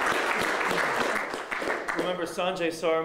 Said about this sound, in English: I think we should give her a hand of applause.